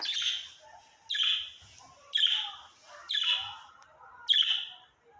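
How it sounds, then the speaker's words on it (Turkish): A small bird repeats a bright, chirping phrase five times, about once a second, close and clear in a quiet room. "Şimdi keyfi yerine geldi ötüyor."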